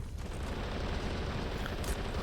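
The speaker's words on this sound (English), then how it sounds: "Lokky's going to destroy it with dynamite. He's planted the dynamite on the floor" A dense, rumbling dynamite blast in a tramway grenades match on a video game map rolls on as a continuous low roar of debris and fire throughout, fairly faint overall, with no talk.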